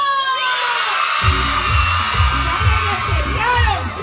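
A crowd of children shouts, whoops and cheers loudly at an outdoor Children's Day event organized by the Municipality of Livingston, sustained throughout, with a thumping beat entering after the first second.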